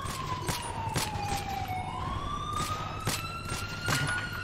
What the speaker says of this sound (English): I hear a lot of cop sirens.